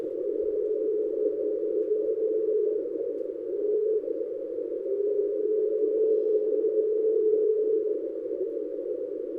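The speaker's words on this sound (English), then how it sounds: "It was labelled the train because it sounds similar to the wheels of a train rubbing against the tracks" A steady, droning underwater rumble with a grinding, scraping quality, like train wheels rubbing along tracks, continuing without pause at an even loudness.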